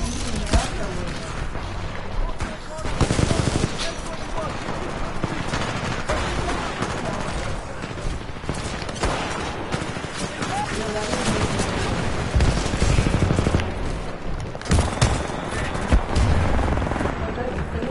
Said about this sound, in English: they all had firecrackers.